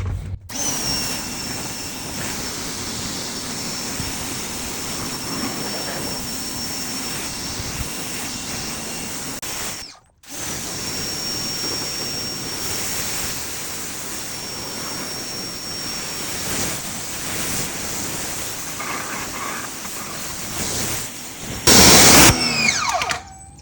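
A motorcycle is rinsed down with a steady hissing water spray that runs nearly continuously and close by, with a brief gap partway through and a harsher burst of spray near the end.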